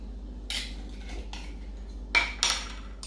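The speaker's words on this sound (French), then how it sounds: "on va mélanger le curcuma et le miel" A metal spoon clinks against a bowl while turmeric and honey are stirred together, a few sharp separate taps with quiet gaps between them, near and alone.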